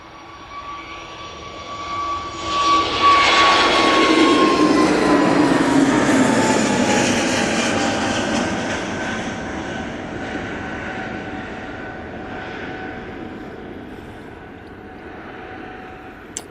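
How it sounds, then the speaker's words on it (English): A Cathay Pacific Airbus A350-900 lands at Manchester Airport with a jet roar that swells over a few seconds, holds loud with a falling engine whine, then slowly fades into a distant rumble. "Cathay Pacific A350-900 now coming in from Hong Kong."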